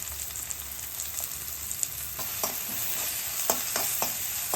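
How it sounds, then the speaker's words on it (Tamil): Onions sauté with salt in a pan, a soft steady sizzle under repeated light scrapes and taps of a spoon stirring, growing a little busier toward the end; no talking. "வெங்காயம் போட்டு கொஞ்சம் வதக்கிறதுக்கு கொஞ்சம் சால்ட்டு போட்டுக்கோங்க."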